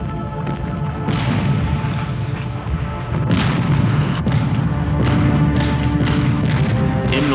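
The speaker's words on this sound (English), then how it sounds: "especially once they were able to bring their artillery to bear" Heavy artillery fire from the 1944 Normandy battle: a continuous rumbling barrage with repeated deep booms and sharper cracks, loud and dense throughout.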